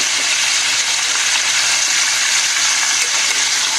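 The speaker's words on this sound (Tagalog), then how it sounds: "Prito na ng dahan-dahan." A steady, loud sizzle of talakitok fish frying in hot oil fills the space, continuous and close, with no talking.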